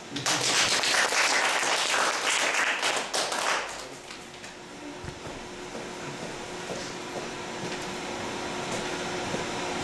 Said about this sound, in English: please welcome Matthew and Mary with a big round of applause